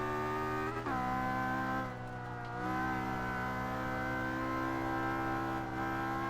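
Car engine droning steadily in the Forza 5 racing game, a strong buzzy tone holding pitch with a brief shift as the revs change, no voices over it.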